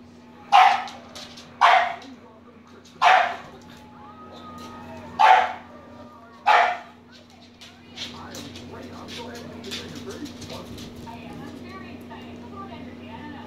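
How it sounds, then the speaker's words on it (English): An eight-week-old puppy barks five times in evenly spaced, loud bursts near the start, then falls quiet while a low steady hum continues underneath. "The puppy is Rachael"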